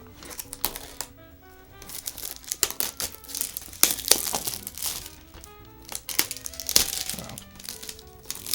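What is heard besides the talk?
plastic seal being torn off a movie case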